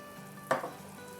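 Pav bhaji frying in butter on a hot griddle, a single short sizzling burst flaring up then fading against a low background hum.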